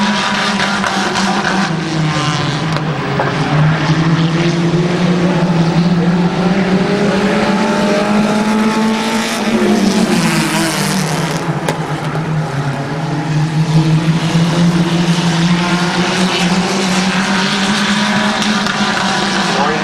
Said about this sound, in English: Cars in the battle for the top spot.